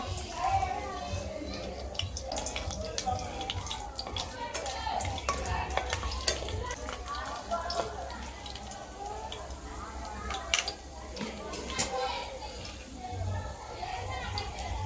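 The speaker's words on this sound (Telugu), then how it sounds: "కడాయి అయితే హీట్ ఎక్కింది ఇప్పుడు ఆయిల్ ఐదు స్పూన్ల వరకు వేసుకుందాం మసాలా దినుసులు వేసుకుందాం" Whole spices fry in hot oil in a kadai, a soft crackling sizzle mixed with clinks of a spoon against the pan, heard under ongoing talk.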